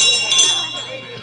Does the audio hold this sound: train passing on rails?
no